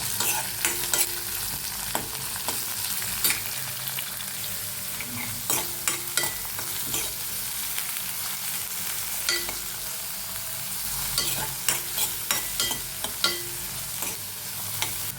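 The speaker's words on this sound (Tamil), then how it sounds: "வெங்காயம் நல்லா வதங்கிடுச்சு" Onions sauté in oil with curry leaves, ginger and green chilli for a garlic pepper fish curry, a continuous sizzle broken by regular spoon scrapes and light clinks, with no talking.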